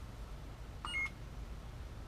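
A short electronic beep chirps from a lightsaber hilt as its mute button is pressed, a brief two-tone electronic blip over a low hiss, with a faint tick at the end.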